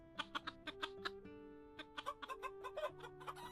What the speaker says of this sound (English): Let's go to the chickens.